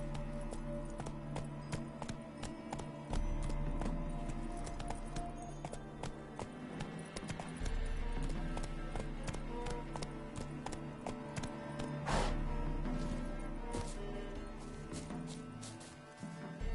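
The horse Roach galloping in a video game, a steady rhythmic clip-clop of hooves under a layer of game music, continuing throughout.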